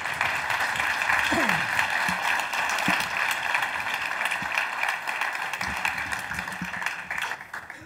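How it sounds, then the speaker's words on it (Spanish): Audience applause at a machine learning meetup rises as a steady, moderately distant patter of clapping, with a few louder claps near the end before it thins out. "Un aplauso,"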